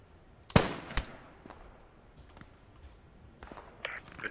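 A few gunshots in Post Scriptum, a sharp close crack followed by a second shot and scattered quieter distant pops over faint ambient noise.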